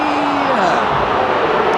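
A loud stadium crowd at a 1998 West Coast versus St Kilda Australian football match roars in appeal for holding the ball, a dense continuous wash of voices with a commentator talking over it.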